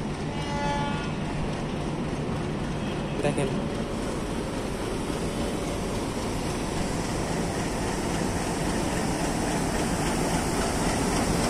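A railway locomotive at Ishwardi junction rumbles steadily as it moves toward the waiting coaches, with one brief metallic clank and a person talking over it.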